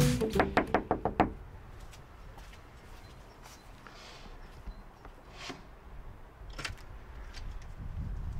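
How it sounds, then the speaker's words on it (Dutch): Series of roughly seven sharp knocks on a front door at a home in Philadelphia, close and loud in quick rhythm, followed by quiet room tone and faint movement. "Wij zijn nieuwsgierig en kloppen daarom aan op een locatie van Philadelphia."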